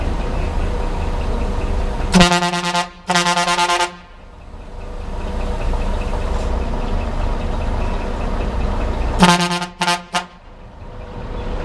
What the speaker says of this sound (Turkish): Kornanın durumu, gemi kornasının durumu bu şekilde.